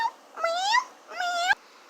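A real cat meows twice, two rising, plaintive calls close to the microphone with a short pause between them.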